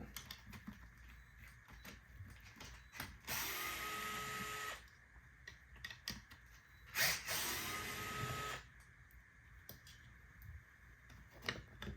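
A power tool backs a bolt out of a Floatwheel ADV electric board in two loud bursts of whirring, each a few seconds long, with quieter clicks and handling noises between them.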